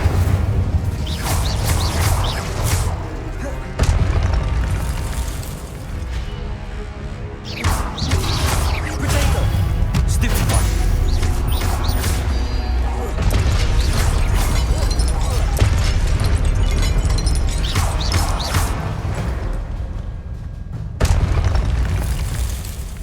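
An Incendio fire spell cast in combat in the video game Hogwarts Legacy, with loud, booming bursts and crashes repeating over a dense, continuous action backdrop.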